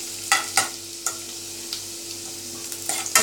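Finely chopped garlic and ginger frying in a pan, giving a constant sizzle punctuated by several sharp crackling spatters and stirring knocks at uneven intervals, close up and without speech.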